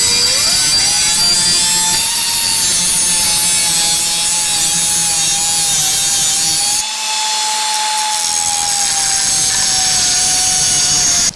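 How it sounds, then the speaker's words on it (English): A power tool cuts a notch and drills a hole in a metal panel during a Jeep JL switch panel install, giving a loud steady high-pitched whine with a brief dip partway, and no talk. "Notched out, drilled a hole."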